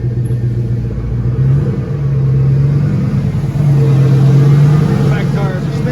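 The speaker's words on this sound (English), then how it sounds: "Back tires are spinning." A turbocharged LS engine in a Caravan revs in gear with its rear tires spinning, a loud steady mid-pitched drone that swells a little partway through, heard close.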